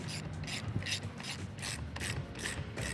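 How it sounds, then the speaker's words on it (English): A hand ratchet tightening a nylock fastener while installing a tip-out windshield on a Polaris Ranger 1000, giving a close, rapid series of clicking bursts in an even back-and-forth rhythm. "So I'm just going to ratchet this on until it's tight and snug."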